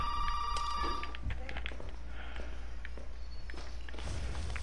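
An old-style telephone bell rings briefly near the start in Resident Evil 7, followed by scattered footsteps and faint clatter over a low hum, all fairly quiet.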